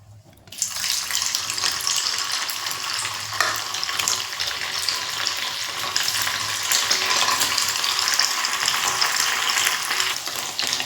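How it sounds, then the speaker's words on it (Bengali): Paneer pieces frying in hot oil in a kadai, a loud dense sizzle that bursts in after a quiet start and holds steady, close up with no talk. "আগে এই তেলেতে আমি হালকা করে পনিরগুলো একটু ভেজে নেব।"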